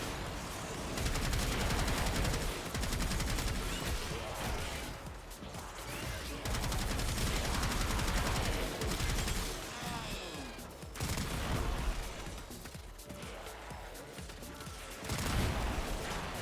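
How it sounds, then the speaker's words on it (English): Rapid energy-weapon fire, the Fire Ray, in Deimos Arcana, a dense crackling barrage of shots lasting most of the clip, loud and close with brief lulls, with talk faintly mixed in. "I'll try it with Fire Ray go up"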